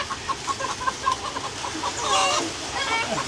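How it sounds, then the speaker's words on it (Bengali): Chickens on a homestead during a full day of rain cluck in short, repeated bursts close by, mixed with a low background murmur and a brief louder squawk near the end. "মুরগি টুরগি সব ভয় পেয়ে গেছে"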